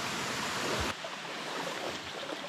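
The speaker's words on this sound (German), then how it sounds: "Wir sind endlich am Wasser angekommen." Water lapping at a shore below a steep bank with trees, a soft continuous wash of gentle waves, fairly faint and steady, with a rougher gust of noise in the first second.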